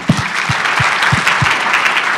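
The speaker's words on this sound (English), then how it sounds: "round of applause for our panelists" An audience at an agricultural technology summit applauds a panel. Close, dense clapping runs steadily throughout, with a few sharper claps standing out near the start.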